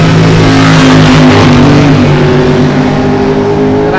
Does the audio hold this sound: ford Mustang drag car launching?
yes